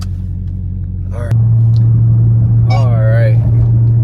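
Dodge Charger Hellcat engine while driving, heard from inside the car as a loud, steady low drone that rises in level partway through, with someone speaking over it.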